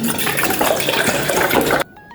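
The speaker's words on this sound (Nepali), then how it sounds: "पानी चाहिँ राखौँ।" Water is poured into a cooking pot, a loud, steady gushing splash that runs continuously and then cuts off abruptly near the end, leaving quiet.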